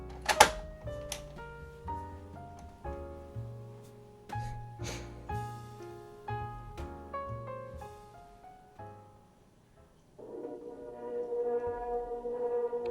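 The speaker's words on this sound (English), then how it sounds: "let's go listen to Star Wars Side 1" A Star Wars recording plays from a worn cassette transcriber with no pressure pad left, producing a muffled, uneven orchestral sound with wavering pitch and shifting loudness, fading low before swelling again.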